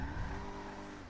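A Rolls-Royce car engine in GTA 5 hums steadily at a constant pitch, a brief, faint, smooth drone with no talking.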